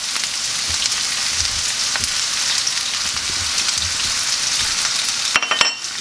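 Chicken and peppers frying in a pan, a steady close crackling sizzle throughout with occasional stirring scrapes and a brief clatter near the end.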